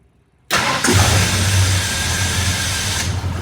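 Starter on a 1965 Ford Ranchero drags while cranking, its sluggish churn cutting in abruptly after a short quiet, then the engine catches and settles into a loud, steady run with no talking.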